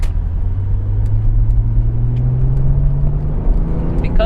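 Engine of a Porsche 911 Turbo S convertible heard from inside, a loud steady low drone rising slowly in pitch as it accelerates, with road rumble underneath.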